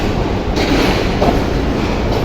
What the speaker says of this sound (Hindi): लाहौर रेलवे स्टेशन पे आ चुकी है